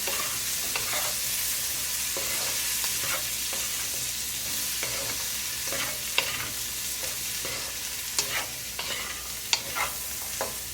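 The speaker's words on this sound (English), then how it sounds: "Now mix well." Spoon scraping and stirring turmeric and dried fenugreek leaves into a pav bhaji mixture in a pan, with steady rhythmic strokes and a soft sizzle underneath, close and continuous without talk.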